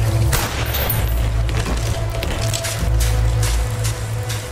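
Gunfire in Call of Duty, a loud run of close shots and booms over a heavy, continuous low rumble, with no clear pauses.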